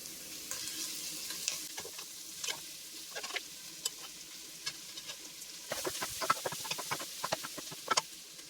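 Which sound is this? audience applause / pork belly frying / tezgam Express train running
pork belly frying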